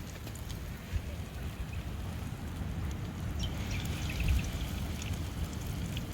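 Beer-battered kingfish pieces fry in a fryer over a campfire outdoors, giving a continuous soft bubbling sizzle with faint crackles throughout, steady and fairly quiet with no talking.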